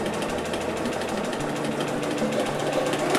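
A sewing machine runs a zigzag stitch in a rapid, steady mechanical chatter, close and continuous with no pauses or talk.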